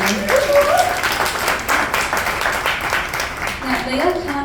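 A panel audience at an Earth Day 2022 arts discussion applauds a panelist, steady clapping filling the room for several seconds with a voice and faint tonal sounds over it.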